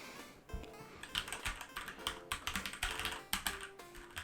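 Typing on a Keychron K4 keyboard, close-up and crisp, with irregular bursts of clacking keystrokes, some quick runs and short pauses, no talking.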